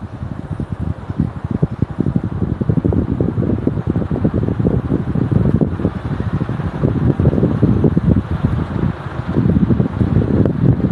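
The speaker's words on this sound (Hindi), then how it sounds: "ये पंखा 30 वाट पे चल रहा है।" A GFC Aeromax ceiling fan running at 30 watts makes a steady, loud whooshing rush of moving air with a rapid low fluttering pulse, close to the microphone and continuous throughout, with no voices.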